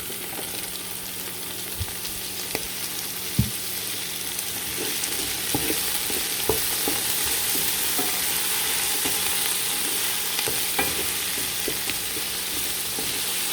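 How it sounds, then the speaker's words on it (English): Mixed peppers frying in a pan for chicken pasta, giving a steady close sizzle with occasional stirring clicks and scrapes, no talking. "So now our mixed peppers goes in."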